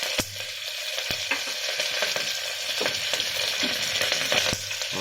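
Curry leaves crackle and fry in hot oil for broken wheat upma, a dense close sizzle with sporadic sharp pops and spatters, no voices.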